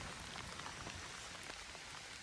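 Steady rain patters across the surface of the water by a fishing bank, a dense, even hiss of close drops with no speech.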